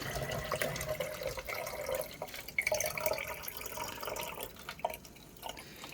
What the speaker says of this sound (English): This is when I fill it with nutrient water.